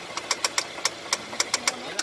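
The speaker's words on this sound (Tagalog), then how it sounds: "Nagitik ng makina." A car engine with a knocking fault ticks out a quick, slightly uneven series of sharp metallic knocks over a low idle, about a dozen taps in two seconds, fairly close.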